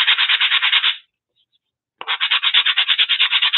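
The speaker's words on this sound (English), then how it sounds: "sand it down just a little bit." A small wooden piece being hand-sanded for decoupage, with rapid rhythmic back-and-forth scratching strokes close up, pausing for about a second before resuming at the same brisk pace.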